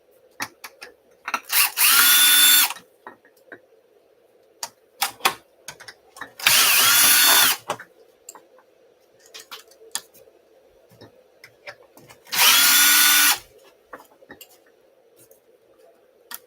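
A power drill spins out screws from a UDR's small body in three loud, separate bursts of about a second each, with faint ticking and handling clicks between them over a steady low hum.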